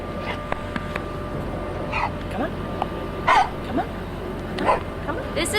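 A six-month-old male mixed-breed puppy at an animal shelter gives several short yips and whimpering barks, scattered irregularly over a steady background hum.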